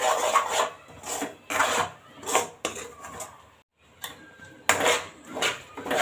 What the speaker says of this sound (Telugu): బాగా కలపాలండి దీన్ని.